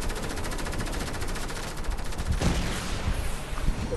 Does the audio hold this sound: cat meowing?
no